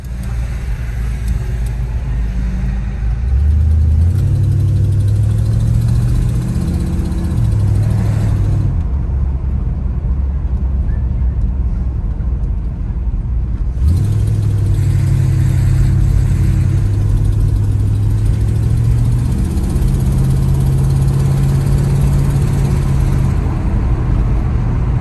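A 1957 Chevrolet Bel Air engine idles steadily and loud throughout, with a rough low rumble that rises and falls slightly in pitch, and a brief dip in the hiss midway.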